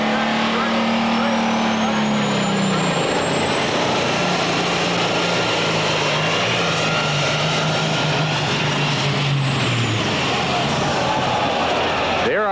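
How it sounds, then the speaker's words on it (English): A super stock class tractor roars down the pulling track at a night event, its engine loud and sustained before dropping in pitch near the end, with an announcer talking over the noise. "Here again, the smoker class, the super stock class. This is true tractor pulling right here"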